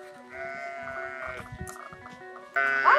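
Sheep bleat in a few drawn-out, wavering cries in a village setting, the last one louder and closer, with no talking.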